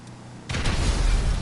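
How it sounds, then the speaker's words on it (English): In a video game, a car explodes: a sudden loud explosion bursts in after a quiet moment, then a dense roaring rumble of blast and debris continues to the end. "And we're going to explode this car."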